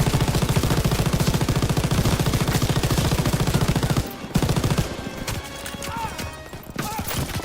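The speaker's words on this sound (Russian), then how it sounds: "Здесь у нас находится пулемет." Rapid machine gun bursts in a World War II-era video game, loud and rhythmic for about four seconds, then breaking into scattered shots and game noises.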